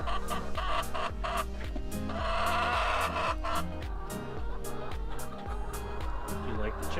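Chickens clucking on a farm on a chilly morning, a steady run of hen calls close by that fills the whole clip, with a person talking over them.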